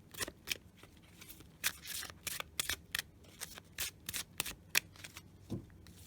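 Oracle cards being shuffled by hand in a card-reading session: a run of quick, crisp riffling bursts and soft slaps, close and fairly quiet, with no talk over them.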